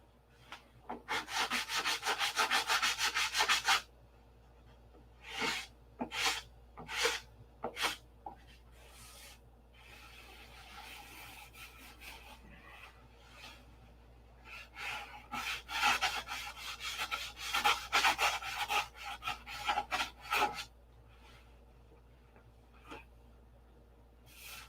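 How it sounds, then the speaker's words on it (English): Hand sanding on a P-47 Razorback model, with a dense burst of rapid rasping strokes, then short separate passes, then another long run of close, steady scrubbing before it trails off. "I want to sand a hole in it."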